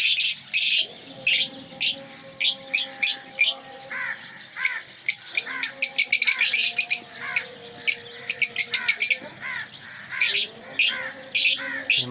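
Three pairs of lovebirds, lutino, personata and black-eyed, chattering in a colony nest with rapid, loud, close chirps and squawks in dense overlapping bursts.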